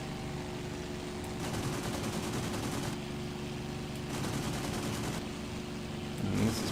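Short machine-gun bursts from a fighter plane attacking Italian bombers over Ipswich in IL-2 1946, in two dense rattling stretches of a few seconds each over a steady engine drone.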